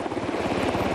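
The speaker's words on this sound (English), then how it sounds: "Helicopters have become the workhorses of the modern battlefield." A military helicopter is heard in flight, with steady, loud rotor chop and engine drone running through the whole second and no talk over it.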